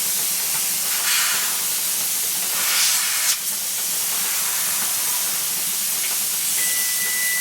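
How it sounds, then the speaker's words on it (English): A pressure canner on a turkey fryer, weighted at 10 pounds while making beef broth, vents a loud, continuous steam hiss that swells in brief surges and briefly lets out a thin whistling tone near the end. "look at that steam"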